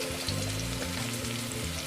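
Onion and green chilli frying in oil in a pan, giving a loud, dense, continuous sizzle that runs steadily throughout with no talk.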